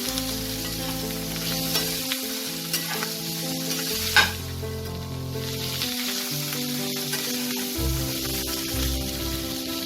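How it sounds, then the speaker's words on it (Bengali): Cauliflower stems with salt and turmeric sizzle in a pan as they are stirred, a continuous close frying hiss broken by repeated scraping strokes and an occasional sharper clack of the spoon. "দিয়ে এটাকে 2-3 মিনিট আমি আরেকটু নাড়াচাড়া করে নেব"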